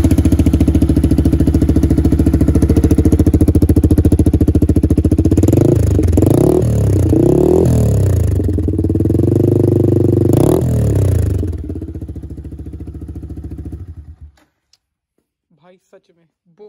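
Yamaha R15 V3 motorcycle fitted with a dual Akrapovic exhaust idles loudly up close, then gets several sharp throttle blips in quick succession before the engine is shut off and falls silent.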